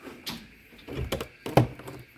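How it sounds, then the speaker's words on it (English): A few dull knocks and thumps, like an old stone hotel's door being pushed and rattled, with one sharper clunk near the end; close by, no talking. "Just check this door."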